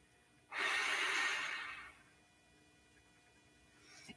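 A single slow, audible breath drawn in during a gentle floor exercise session, lasting about a second and a half and heard close, alone, before easing off into quiet room tone.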